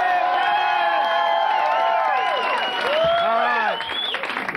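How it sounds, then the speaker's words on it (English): A studio audience at a 1991 game show applauds and cheers loudly and continuously, with whoops and excited voices rising over dense clapping before it thins slightly at the end. "let's have a big cheer for my producer"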